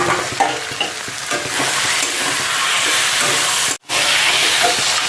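Rohu fish head and taro greens stir-frying with sugar in a village kitchen, a steady loud sizzle with scraping stirs throughout, broken by one brief silent gap near the end.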